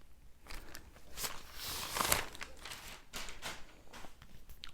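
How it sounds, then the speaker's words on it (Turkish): Crinkly plastic wrapping on a gift box of books rustles and crackles in bursts as it is handled and pulled away, close up with no talking. "Bakın böyle bir naylon gibi bir şey sarmışlar hediye kutusuna."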